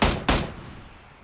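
Two sharp gunshots in PUBG on Xbox One, loud and close, fired in quick succession with a short decaying echo after each.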